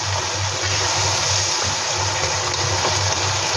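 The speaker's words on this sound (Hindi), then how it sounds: "फिर उसके बाद इसमें मैं पानी डाल दूँ" Water pours steadily into a pot of chickpeas sautéed with spices for chana pulao, a loud continuous gushing rush with a faint low pulsing hum beneath.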